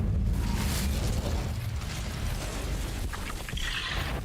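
Incendio fire spell cast in Hogwarts Legacy, a roaring burst of flame that swells and crackles over a few seconds, near and loud, with a fizzing sparkle toward the end.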